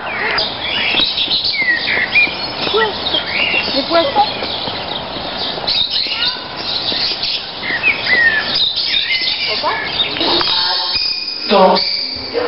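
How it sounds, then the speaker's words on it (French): Many small birds chirp and tweet constantly in a heated indoor aviary room at an animal park, with a dense overlapping chorus of calls near and far and some voices briefly heard. "Donc là on est dans une salle chauffée et spécialement adaptée pour plein de petits oiseaux."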